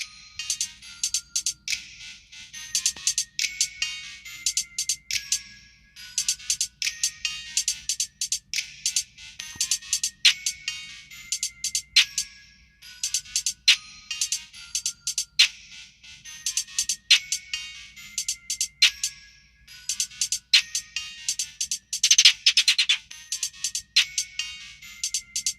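Music played through SoundPEATS Mini Pro HS wireless earbuds held up to a microphone comes across thin and tinny, with bright rhythmic pulses and no low end, running continuously at a modest level.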